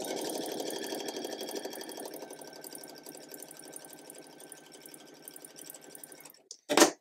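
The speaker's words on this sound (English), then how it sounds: "So let's just sew those together." A sewing machine stitches half square triangle quilt units in a rapid, steady mechanical chatter that starts loud and gradually slows and fades, ending with a brief clunk after a short pause.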